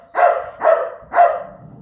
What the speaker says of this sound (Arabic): يسمع الباب يتحل يولي ينبح